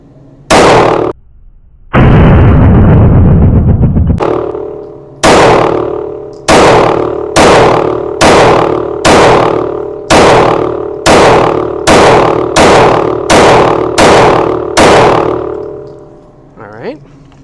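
Palmetto State Armory Micro Dagger pistol firing 147 grain Lawman ammunition, about fourteen loud sharp gunshots in a steady string after a single opening shot and a two-second burst of noise, each report ringing out before the next.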